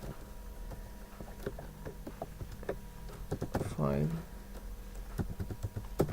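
Computer keyboard typing while writing code for a GridView image display, with short bursts of close key clicks heard under someone talking.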